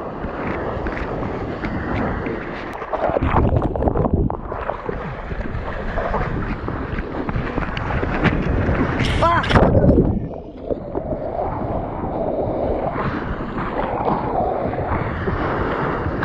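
Ocean waves break and wash around a surfer at Praia do Rosa, Brazil, heard close up under heavy wind noise on the microphone, with a louder rushing surge in the middle and steady water noise throughout.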